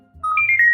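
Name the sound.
phone notification sound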